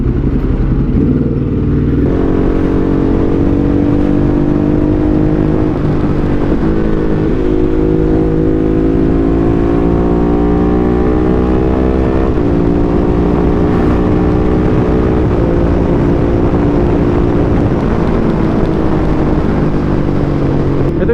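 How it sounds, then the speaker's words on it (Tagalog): A Ducati Hypermotard motorcycle engine drones steadily while riding, with rising and falling pitch as the rider shifts and revs, loud and continuous with wind noise and no speech. "ito diba ang ingay ng motor natin"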